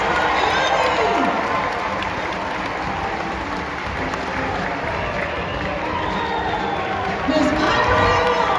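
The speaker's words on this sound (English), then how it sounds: "A big round of applause for Annie." A large rodeo crowd at the Pendleton Round-Up and Happy Canyon Night Show applauds and cheers steadily throughout, a dense wash of clapping with scattered shouts and a swell of cheering near the end.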